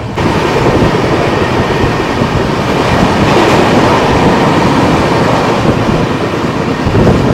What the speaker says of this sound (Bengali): ট্রেন কিন্তু বেশ ভালোই টানছে, কন্টিনিউ কিন্তু 100-110-এর ওপরেই চলছে